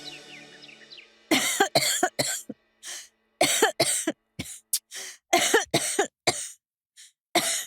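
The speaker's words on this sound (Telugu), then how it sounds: "అరే దగ్గటం కాస్త ఆపుతావా? నువ్వు దగ్గుతుంటే టెన్షన్ వస్తుంది." Repeated harsh coughing fits, close and loud, in short bursts with brief pauses between them, preceded by faint background sound.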